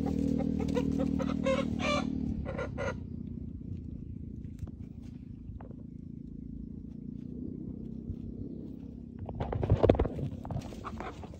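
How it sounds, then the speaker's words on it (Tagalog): A native chicken on a farm makes soft, low clucking and murmuring sounds close by, with scattered scratching and rustling and a brief louder flurry near the end. "Ito, native na manok."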